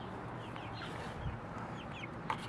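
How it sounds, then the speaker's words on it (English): Backyard chickens cluck softly and intermittently at a moderate distance over a steady outdoor background hum, with no talk. "I have chickens."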